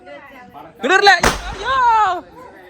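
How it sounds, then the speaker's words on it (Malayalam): A firecracker set off during a Vishu celebration bursts with one sudden, loud, sharp crack, framed by people talking just before and after it. "ആ പടക്കം ഡേഞ്ചറാണ് കേട്ടാ."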